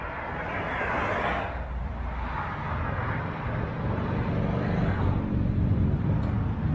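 Steady road traffic rumble, continuous and moderately loud, with broadband wash of passing vehicles heard from a walking route near Balloch in Scotland.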